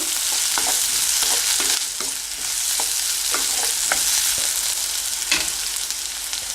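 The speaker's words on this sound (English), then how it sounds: "Then I'm going to add our sorted okra." Okra frying in oil in a pan for a curry, with a continuous sizzle and repeated scraping taps of a spoon stirring the pieces, heard up close with no talking.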